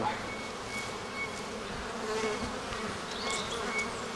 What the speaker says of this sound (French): On voit aussi des abeilles qui en ont un petit peu sur les pattes.